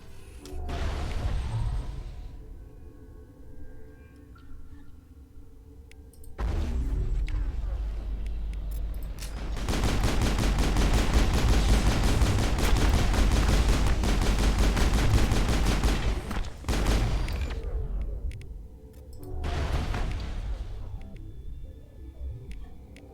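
Sustained bursts of automatic gunfire in the sci-fi shooter Mass Effect, loud and dense, with shorter volleys before and after a long continuous stretch of firing.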